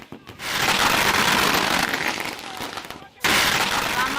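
Fireworks set off by supporters celebrating an election win crackle and burst in a dense, loud, continuous barrage, briefly dropping out before resuming.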